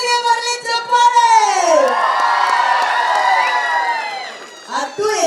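A large crowd at a song launch event erupts in loud, sustained cheering with shrill whoops and shouts, swelling and dipping over several seconds.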